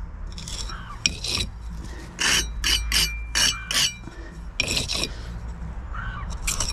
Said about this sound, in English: Just get my trowel and just scrape the little bits off